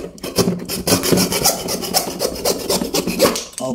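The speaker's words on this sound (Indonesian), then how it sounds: "Terpaksa kita pun memotong secara ini." A broken wooden hammer handle being cut by hand, giving a steady rasping, rubbing saw stroke that repeats continuously at close range, loud and alone without any talk.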